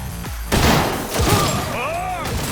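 A quick burst of gunfire from a light gun in the Cyberpunk 2077 game cracks out abruptly, followed by another thumping shot and sweeping electronic effects, loud and close amid game noise.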